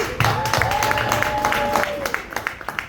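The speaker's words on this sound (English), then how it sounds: "I want to just give a round of applause for our mentors" Audience applause and clapping for mentors and a professor at a Howard University event in Washington D.C., a steady ripple of hands with crowd murmur and scattered sharper claps trailing off near the end.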